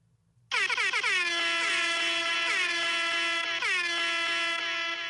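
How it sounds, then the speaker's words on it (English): A loud, blaring air horn starts abruptly after a short silence and holds steadily with a few quick re-blasts, harsh and brassy. "that MP3, which I call air horn multi"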